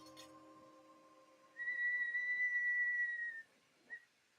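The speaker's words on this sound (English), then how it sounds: "We got a whistle out of it." A hot glass piece whistles during glassblowing in a studio, giving a faint, pure, steady high tone that holds for about two seconds, then a brief chirp, with no talking.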